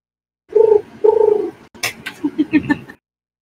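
A person imitates a bird with two drawn-out, tonal calls followed by a quick run of four or five shorter chirps, loud and close. The sounds are voiced, not those of a real bird.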